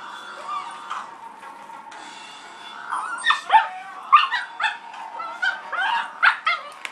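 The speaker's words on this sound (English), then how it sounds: "Because look at these puppies." Several puppies bark, yip and whine in a high-pitched chorus, with the calls starting softly and then growing into a run of close, excited yelps.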